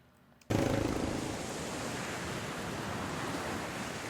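An ocean waves sound effect cuts in abruptly as a steady broadband roar of surf, loud and constant, with no talking.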